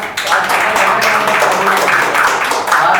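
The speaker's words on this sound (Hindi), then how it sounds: "ताली बजाओ एक बार" A seminar audience applauds together, a dense steady clatter of many hands that holds loud and even throughout, with a murmur of voices underneath.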